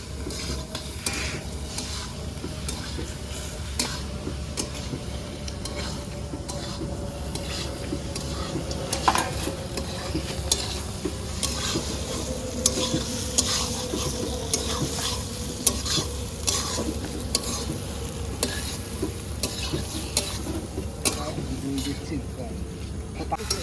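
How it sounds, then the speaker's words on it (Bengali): Meat frying with potatoes and spices in a pan, a continuous sizzle with repeated scraping and clinking of a spoon stirring against the pot, while people talk at moments over the cooking. "মাংসটা দাও ভালো করে ভেজে দিই।"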